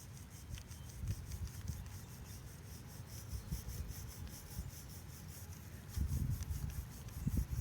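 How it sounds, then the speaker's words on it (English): A toothbrush scratches gently across a pet turtle's shell in a steady, soft rubbing rasp with short repeated strokes, close and quiet with no talking. "Nice, gentle scratches. I'm using a toothbrush here."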